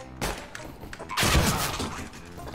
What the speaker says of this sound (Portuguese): Muito forte o tiro dos rapaz.